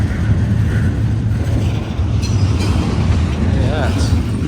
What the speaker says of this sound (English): Enjoy the rest of the train that's passing us right now.